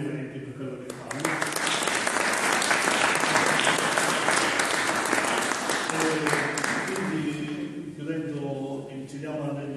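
A conference audience gathered to discuss a traditional Sicilian bread festival breaks into sustained, full applause that swells and holds for most of the stretch, with voices speaking under it as it fades.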